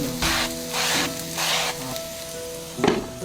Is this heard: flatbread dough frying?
yes